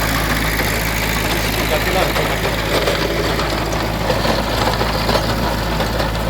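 A Kubota tractor engine runs steadily at a low, even idle through an intercultivation job in a sugarcane field, its rumble continuous throughout while someone speaks over it.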